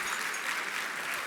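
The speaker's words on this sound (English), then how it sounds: "Can we have a round of applause for everyone here in this room tonight?" Applause from the audience at an award dinner, a steady wash of many hands clapping at moderate volume throughout the brief moment.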